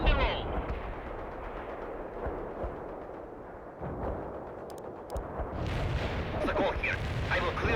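Heavy artillery barrage in World in Conflict, a continuous rumbling wash of distant booms and thuds with scattered sharper impacts, swelling louder near the end, with faint voices mixed underneath.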